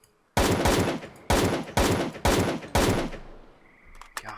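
Gunfire from a weapon in S.T.A.L.K.E.R. Call of Pripyat: five loud, punchy shots spaced about half a second apart, each with a sharp crack and short rumbling decay, the last fading into a ringing tail.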